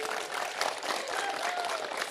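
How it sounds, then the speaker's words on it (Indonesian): Steady applause from an audience at a televised political event, a dense continuous patter of many hands clapping throughout, with no speech over it. "Beri tepuk tangan dulu yang meriah untuk Pak Anies."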